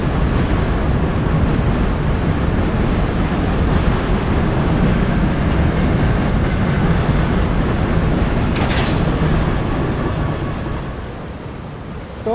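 An Indian WAP4 electric locomotive hauling oxygen tankers in Train Simulator Classic gives a loud, steady, dense rumble of rolling wheels and motors with no voices, easing slightly in the final seconds.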